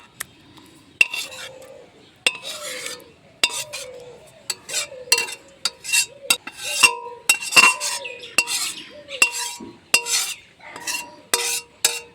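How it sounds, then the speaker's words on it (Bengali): Cooked taro leaves in tomato sour gravy being scraped and poured from one pot into another, with repeated metallic clinks and scrapes of a spoon against the pots in an uneven rhythm. "এখন কচু শাকটাকে অন্য পাত্রে ঢেলে দেব।"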